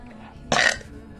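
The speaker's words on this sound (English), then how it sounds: "This is a big, long thank you burp video" A single loud, short burp erupts close to the microphone amid quiet room tone, rasping for about a third of a second before fading.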